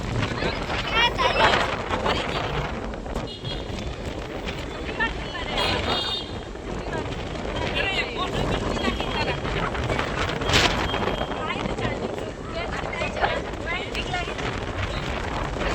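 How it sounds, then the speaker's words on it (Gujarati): Strong gusting wind outdoors just before rain, roaring steadily and buffeting the microphone throughout, with people talking over it. "ફૂલ પવન છે, વરસાદ જેવું થઈ ગયું છે"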